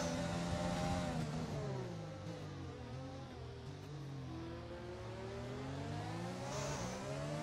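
Formula 1 race cars overtaking in a video game at the Japan circuit, high-pitched engine notes rising and falling as gears shift, a steady loud whine with no voices.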